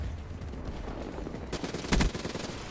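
Gunfire in a first-person shooter game, a low background rattle broken by a short burst of sharp shots near the end, with no talk.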